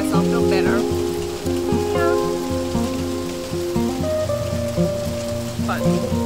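Rain falls steadily on Sentosa Island, Singapore, as a constant close hiss and patter. Tonal background sounds run over it throughout.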